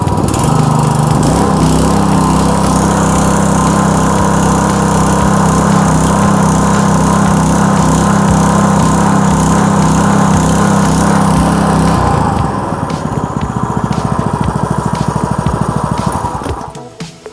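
A premium car engine held at a loud, steady high-rpm drone for about twelve seconds, then dropping back to a lower, rougher idle before cutting off.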